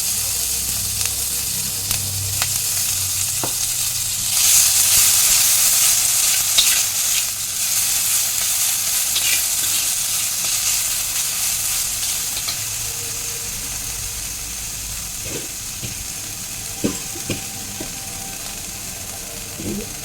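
Chopped ginger and green chillies sizzle in hot oil, a steady loud frying hiss with occasional stirring scrapes and clicks throughout, no talking.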